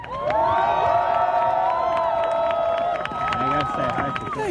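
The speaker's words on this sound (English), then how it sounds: "So can we give them a big cheer?" Protest crowd in London raising loud, sustained cheering and whooping for people being arrested, many voices shouting together close by with scattered claps, swelling and dipping over several seconds.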